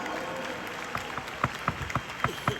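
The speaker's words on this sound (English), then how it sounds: "Can we all give our topmost leaders a round of applause today?" At a company leadership gathering, an audience gives thin, uneven applause, with a handful of distinct nearby claps over a soft room background.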